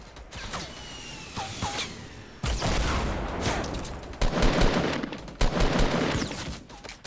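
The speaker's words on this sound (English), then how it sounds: "Yeah, keep shooting." Gunfire in Fortnite crackles in rapid bursts and sustained volleys, loud and close, with heavy blasts and whooshing effects mixed in and no talk.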